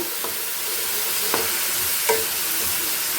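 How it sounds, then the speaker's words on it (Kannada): Bilimbi fruit fries in oil on a low flame with a steady, close sizzling hiss. A few soft stirring knocks break in now and then, and no one speaks. "ಇದು ಚೆನ್ನಾಗಿ ಎಣ್ಣೆಯಲ್ಲಿ ಫ್ರೈ ಆಗಬೇಕು"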